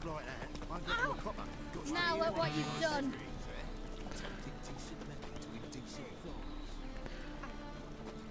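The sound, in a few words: horse hooves and whinny in the video game Witcher 3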